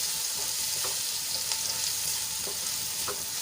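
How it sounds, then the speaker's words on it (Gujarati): Finely chopped onion sautés in oil in a pan, a steady close sizzle with faint occasional stirring clicks throughout. "ડુંગળીને આપણે ગુલાબી રંગની થાય ત્યાં સુધી સાંતળી લેવાની છે"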